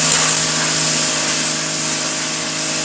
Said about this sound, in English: we want to pressure wash this because we want that vent plug to be wide open so that the gearbox can breathe